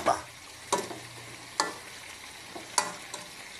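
Papaya added to a simmering adobo-style dish, with a soft sizzle beneath and several sharp utensil clinks against the pot spaced a second or so apart, close and fairly quiet.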